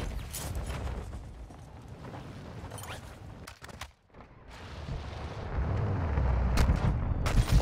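Gunfire in Call of Duty DMZ on Ashika Island, a dense barrage of overlapping shots and booms running nearly continuously, briefly dropping out around the middle before the rattling fire resumes louder toward the end.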